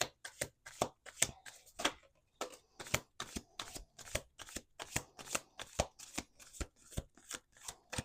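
Close, crisp riffle shuffling of a deck of playing cards, a steady run of quick snapping bursts repeating with short gaps and no voices.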